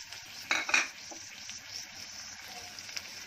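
Chopped tomatoes hit a hot pan of frying goat brain masala, giving a brief burst of sizzling with a couple of clinks before settling into a soft, steady fry, quiet and close, with no talking.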